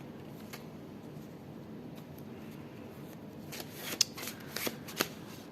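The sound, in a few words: handling tarot cards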